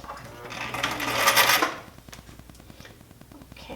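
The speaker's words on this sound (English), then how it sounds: "I'm going to stitch the under the sleeve here, the seam for the sleeve" A sewing machine stitches a half-inch sleeve seam on a sloper garment, a brief burst of rapid whirring needle clatter that swells and then falls to quieter mechanical ticking.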